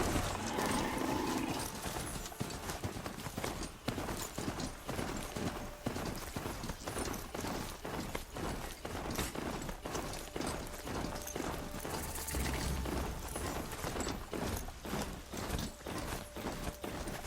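A mount is ridden in Horizon Zero Dawn, with steady, rhythmic hoof clip-clops and faint mechanical clanks that continue evenly over a dense, constant ambient background.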